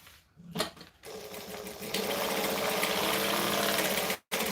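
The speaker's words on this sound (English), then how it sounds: "So then we can just stitch up the sides." A close sewing machine stitches up the sides of a fabric piece, starting with a few short bursts and then running in a long continuous loud whir before stopping abruptly near the end.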